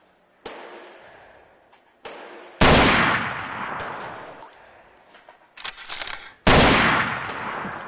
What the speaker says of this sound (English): I wanna shoot this first